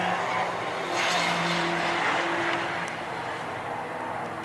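Saloon and sports racing cars circulate at Silverstone during a CSCC Special Saloons and Modsports race, a continuous distant engine roar and tyre noise washing across the circuit, steady and fairly loud, with no talk.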